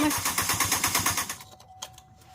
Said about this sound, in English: So go ahead, start it again. Then we'll crank.